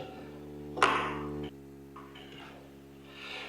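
A wrench bangs on clogged old pipes in the horror adventure game Phantasmagoria: one sharp metallic clank, then a soft ring-out over a steady musical drone, with a second faint knock after it.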